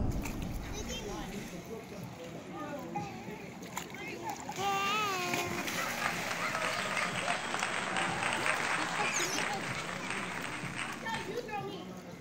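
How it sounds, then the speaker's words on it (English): A child with a floatie swims across a pool, splashing water continuously and fairly close, with a brief burst of heavier splashing partway through; voices and a child's chatter are heard over the water. "Swim, swim, swim."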